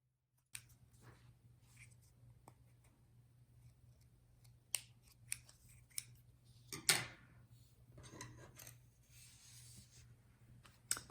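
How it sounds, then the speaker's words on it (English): Scissors trim a paper cutout on a handmade winter snowflake poinsettia Christmas card with a few scattered, quiet snips and clicks in a hushed room, with a brief rustle of paper. "we're just going to take our scissors and trim that"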